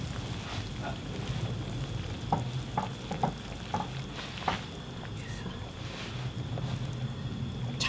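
Tuna being added and stirred into a pot of sizzling kimchi stew: a steady low sizzle and bubbling runs throughout, with a few soft scraping stir sounds and light clinks, close and moderately quiet, with no talking.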